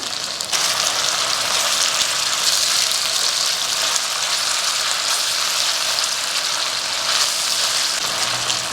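A mixture of chilli sauce, tomato sauce and soy sauce sizzles loudly in a hot pan while dry chilli chicken is cooked, a bright, continuous frying hiss that stays steady from start to finish.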